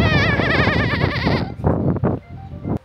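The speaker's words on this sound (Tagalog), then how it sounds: "Ayan pa, ang mga kambing." Goats bleat near a farm in Kobe, Japan: one loud, long, wavering bleat, then several shorter and fainter calls.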